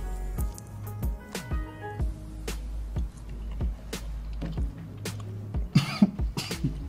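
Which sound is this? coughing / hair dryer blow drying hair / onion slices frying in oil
coughing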